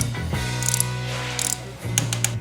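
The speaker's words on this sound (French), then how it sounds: "on utilise la clé dynamo à 11 Newton pour resserrer" A torque wrench set to 11 Nm tightening the oil filter cover on a KTM 125 Duke motorcycle, quick close ratcheting clicks in two bursts separated by a brief pause, with no talking.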